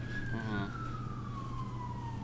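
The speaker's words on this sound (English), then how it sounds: "Okay, now there's a police car." A police siren sweeps slowly downward in pitch as it passes at a distance, faint under steady background rumble, with a brief voice-like burst near the start.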